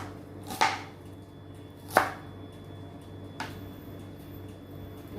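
Two sharp knife strikes of onion being chopped on a board, spaced apart, followed by a fainter third tap against a steady background hum.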